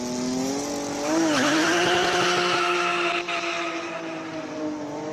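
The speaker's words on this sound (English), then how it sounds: "It is a BMW 328 E36 rear-wheel drive, 6-cylinder, normally aspirated." A rear-wheel-drive, normally aspirated six-cylinder BMW 328 E36 race car climbs a hill at a Cape Town hill climb event; its loud engine howls steadily, dips as the driver shifts, then rises again and holds a strained, revving note.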